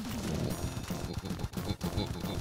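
Rapid, dense video game gunfire from Ridiculous Fishing, shooting fish as a continuous loud burst with game music mixed in.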